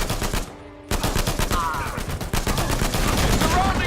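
Rapid video game gunfire with shotgun blasts, dense bursts of shots throughout a chaotic firefight, with a brief dip in noise near the start and scattered voices underneath.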